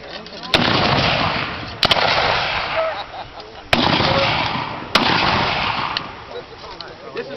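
Civil War reenactors at an encampment fire rifle volleys, four sharp loud cracks spaced about a second or two apart, each followed by a rolling echo over steady outdoor background noise.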